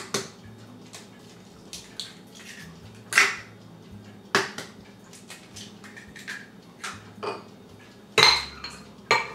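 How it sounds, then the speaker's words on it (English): Eggs and vanilla are beaten into wet cookie ingredients in a bowl, heard as a run of sharp, irregular clinks and taps of utensil on bowl over a quiet background, with a few louder knocks near the end. "I'm going to beat these up again."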